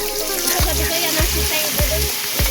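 Carrots sizzle as they are sautéed in a pan, with a steady loud frying hiss and rhythmic scraping stirs about every half second.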